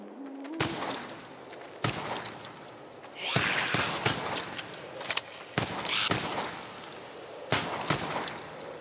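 Gunshots at zombies in the VR game Arizona Sunshine, several loud sharp shots spaced a second or so apart, with some closer together, and no talk over them.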